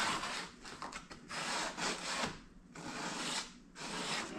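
Emery cloth is rubbed back and forth along the freshly trimmed metal fender edge of a Jeep JKU, close up, in about six rhythmic scratchy strokes separated by short pauses.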